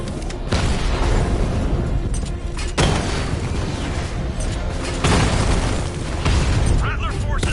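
Tank cannon fire and explosions from a video game's 60mm cannon against heavily armored units, with heavy booms landing at intervals over a dense, continuous roar of battle noise.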